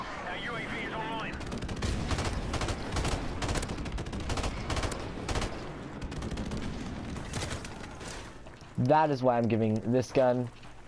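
Bursts from a VRN gun in a shooting video game rattle out in rapid, evenly spaced volleys, fairly loud and close, followed near the end by a voice speaking over the gameplay.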